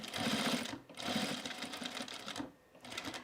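A home sewing machine stitches through thick folded canvas in a fast, even mechanical chatter, close and clear, running in three bursts with two short pauses.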